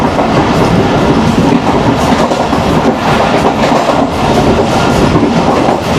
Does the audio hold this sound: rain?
no